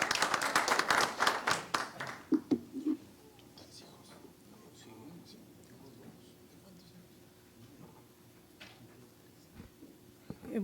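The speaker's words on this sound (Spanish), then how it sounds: "Un aplauso para ella" A brief burst of audience applause at a finance event in a hall, dense rapid clapping for about two seconds that quickly thins to a few scattered claps, then quiet room murmur.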